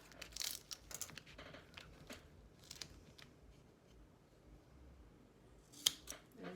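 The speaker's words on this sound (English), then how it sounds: "Cut it off." Scissors cutting through fabric for a topstitching detail, a few close, crisp snips and rustles early on, then quieter handling with a sharp snip near the end.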